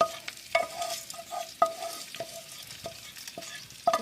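Ingredients fry in oil for an Andhra-style curry leaf pickle, a soft sizzle broken by repeated metallic clinks of a spoon stirring against the pan at an uneven pace.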